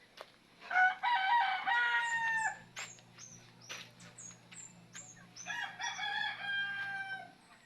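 Young fighting roosters, about six months old, crow repeatedly at close range, with long drawn-out calls overlapping short, sharp crows and clucks from other birds nearby.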